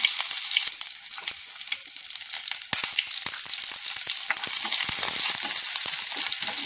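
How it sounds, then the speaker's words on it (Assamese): Onions, cumin seeds, curry leaves and green chillies fry in hot oil for a vegetarian thali, giving a steady, close crackling sizzle with scattered sharp pops throughout. "ইয়াত তেল গৰম হৈ গ'ল ইয়াতে মই অকণমান জিৰা দিছোঁ তাৰপিছতে নৰসিংহ পাত কিছুমান দি দিছোঁ আৰু লগত জলকীয়া দিছোঁ তাৰপাছতে ইয়াত পিঁয়াজ দি দিছোঁ"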